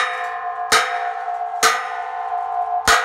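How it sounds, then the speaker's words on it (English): A hammer strikes a metal carport post three times during construction, each loud clanging blow ringing on like a gong between hits, with no talking. "with some good hammer hits, we might be able to get it to fall in"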